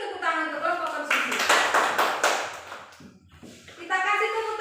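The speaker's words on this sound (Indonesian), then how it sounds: "Kita kasih dulu tepuk tangan untuk kelompok konsumsi." A classroom of students claps for a student group, a short burst of hand-clapping that rises between stretches of talk.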